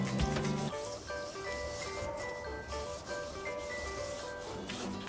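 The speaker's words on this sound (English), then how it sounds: "I'll take this scrub and while putting this solution," A dishwasher interior is scrubbed by hand with a scrub pad and descaling solution, giving soft, steady rubbing strokes at close range with no speech.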